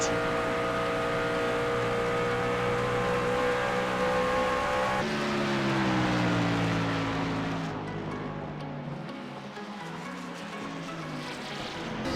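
A NASCAR race car engine drones at high revs on a qualifying lap at Las Vegas Motor Speedway in the iRacing video game, a sustained loud tone that shifts pitch and eases off toward the end.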